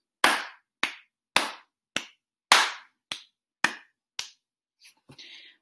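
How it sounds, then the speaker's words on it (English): Sharp, close hand claps, eight in an even 4/4 pulse with strong, weak, medium, weak accents, each ringing briefly in a quiet room, followed by faint handling noise. "So if we're going to clap that, it sounds like this."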